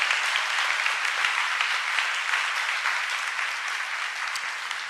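A church gathering in Busan applauds to bless four congregations, a sustained, even roar of many hands clapping at a moderate level with no break.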